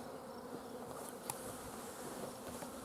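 A steady, dense insect buzz hums continuously throughout, like many bees swarming close by, with no voices present.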